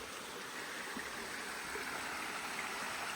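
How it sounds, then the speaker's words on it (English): Steady broadband rush of a flowing stream in a forest in North Carolina's Pisgah National Forest, continuous and moderately loud throughout with no voices. "I hear water."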